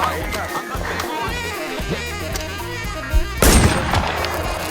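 Video game gunfire during a fire-for-effect strike, rapid repeated shots and booms under continuous game chatter, with a sharper, louder burst of fire near the end.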